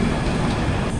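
The 13125 Kolkata–Sairang Express passenger train is on the move, a steady, close rumble of rolling carriages for about a second.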